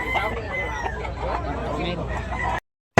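A rooster at a poultry market in Tabunok, Talisay, Cebu crows and clucks up close, loud and continuous, over a background murmur of voices before cutting off abruptly.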